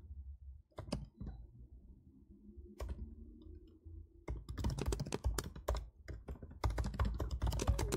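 A computer keyboard clacks as code is typed, with sparse keystrokes at first and then dense, rapid bursts of clicking close by and fairly quiet.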